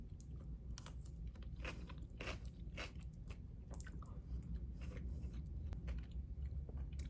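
A person bites into and chews a falafel meal close to the mic, with moist crunches and irregular chewing over a steady background hum and no talk.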